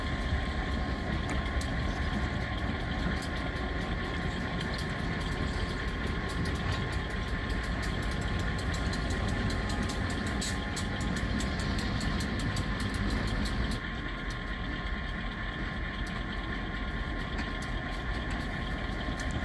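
A railroad yard engine idling and pushing a string of cars toward an outbound track, producing a steady, unbroken diesel rumble and hum at moderate distance for the whole stretch, with no talk.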